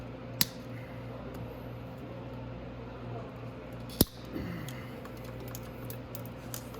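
Zip ties being snipped on the stator wiring of a Venom X22 125cc motorcycle, with two sharp isolated clicks of the cutter about three and a half seconds apart over a steady low background hum.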